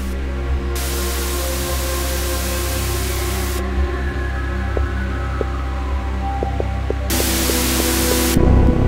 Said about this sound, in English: This hissing that's getting louder.